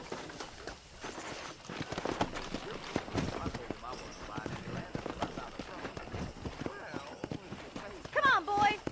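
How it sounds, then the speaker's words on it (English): Horse hooves clip-clop at a steady trot in the Western video game Red Dead Redemption, running through the whole clip under game voices and background sound. "Let's see if we can't wrangle some horses."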